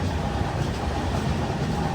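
Humsafar Express train running on its way to Vapi station, heard from inside as a steady, loud rumble and rattle of wheels on rails that holds at an even level throughout.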